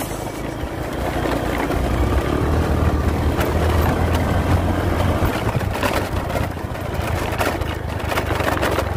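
A fuel-injected motorcycle engine, just repaired at the fuel pump filter after stuttering and losing power, is revved on the throttle, running loud and close with its roar rising and easing, no speech.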